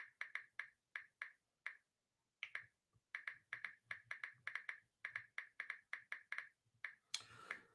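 Typing on a computer keyboard, close and quiet: bursts of crisp individual key clicks in an uneven rhythm with short pauses, ending in a brief rustle.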